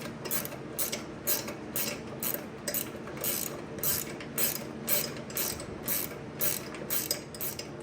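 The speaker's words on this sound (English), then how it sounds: "I'll go ahead and unscrew these, 6 bolts, 3 on one side, 3 on the other" Ratchet wrench loosening engine mount bolts on a Tao Motor 110cc Jeep go kart, a close, steady run of quick metallic clicks in repeated bursts, with no talk.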